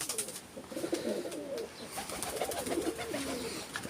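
Pigeons coo in their nest boxes in a loft, a soft, repeated, throaty cooing close by with faint rustling in between.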